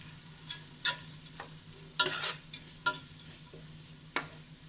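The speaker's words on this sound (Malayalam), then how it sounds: "പിന്നെ നമുക്ക് അടുത്ത് ക്യാബേജ് ചേർത്ത് കൊടുക്കാം. ഇതുപോലെ നല്ലപോലെ വഴറ്റിയെടുക്കുക." Cabbage sautéed in a pan for Indo-Chinese spaghetti noodles: a soft continuous sizzle with about half a dozen sharp spatula scrapes and stirs spaced irregularly, close up and quiet, no talking.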